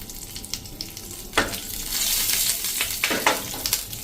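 Mustard seeds and curry leaves hit medium-hot oil for a tempering, giving a close, loud crackling sizzle with sharp pops and bursts of spluttering.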